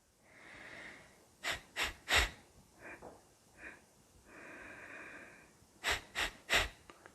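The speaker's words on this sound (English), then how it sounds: "3 sharp exhales out, 2 short, sharp inhales in, and 1 long inhale in." A person does a sharp breathing exercise through the nose, with short, forceful exhales and quick inhales in tight clusters of three, separated by softer, longer breaths, close and quiet.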